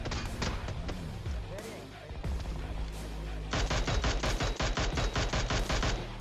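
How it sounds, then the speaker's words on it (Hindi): Groza assault rifle fire in the mobile battle royale game BGMI, shot from atop a tower: rapid bursts of gunshots, with a dense automatic volley in the second half, loud and close over game ambience. "लेकिन इनका टीममेट टावर के ऊपर से ग्रोजा चला रहा था।"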